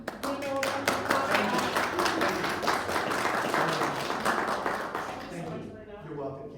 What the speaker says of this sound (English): let's give Bruno a round of applause